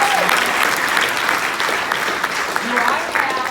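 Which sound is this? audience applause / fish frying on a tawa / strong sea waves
audience applause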